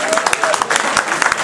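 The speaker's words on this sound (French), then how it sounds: "Sous vos applaudissements," Audience applause after a Union Rennes Basket win over Poissy, rapid clapping heard under someone speaking over it.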